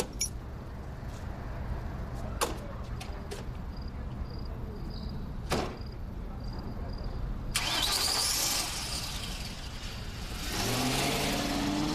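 A car engine cranks and catches near the end, rising into a steady running rumble after a quiet stretch with a few faint clicks and knocks.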